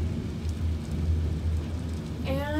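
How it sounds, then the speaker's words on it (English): Heavy rain roars steadily with deep rumbling wind and thunder underneath, a continuous stormy wash of noise. "There's lots of lightning happening. It's very, very windy."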